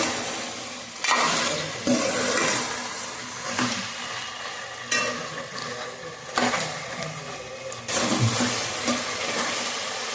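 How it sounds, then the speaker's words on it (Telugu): Water is poured into a pot of yam and brinjal curry, making a rushing, splashy flow. It surges in several uneven bursts and is fairly loud and close. "వాటర్ అయితే పోస్తున్నానండి"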